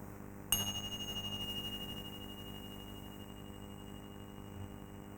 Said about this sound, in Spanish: Y escuchar el sonido de las campanillas.